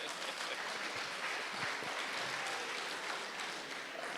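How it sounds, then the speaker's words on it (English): Audience at an official health capacity evaluation event in Nigeria applauding a team, a steady mass of clapping from a room of people, moderately faint and continuous throughout. "Another round of applause for this wonderful team led by Dr. Heng."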